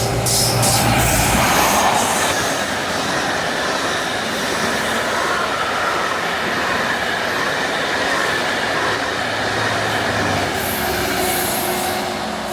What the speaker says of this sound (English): once we get the Class 60 passing through